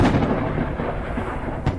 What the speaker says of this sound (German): Vielleicht verschlafe ich den Sturm.